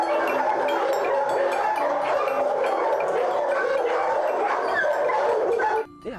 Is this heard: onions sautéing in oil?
no